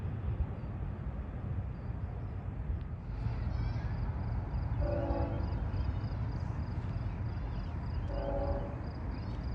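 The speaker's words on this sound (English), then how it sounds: "that horn belonged to this Norfolk Southern Intermodal" A Norfolk Southern intermodal train sounds its horn in two distant, moderately loud blasts over a constant low rumble of the passing train, with faint voices in the background.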